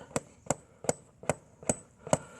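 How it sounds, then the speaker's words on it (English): Six evenly spaced hammer blows ring out, close and sharp, as a hoof tap is driven into a groove in a horse's foot, each strike a crisp metallic knock with brief ringing decay. "that allows me to drive this hoof tap in deep below the surface of the foot"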